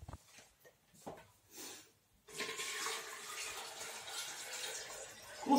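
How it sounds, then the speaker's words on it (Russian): Water poured into a 2-litre Esmarch enema mug, a soft rushing stream that starts after a few quiet handling clicks and runs steadily, close and fairly faint. "И наливаем."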